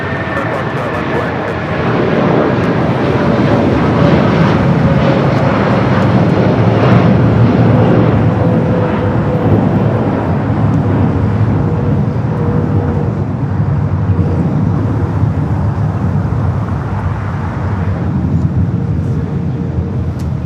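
An airliner taking off from runway 25 right at Los Angeles International Airport, a steady loud jet roar that holds and swells for about twenty seconds with a faint whine above.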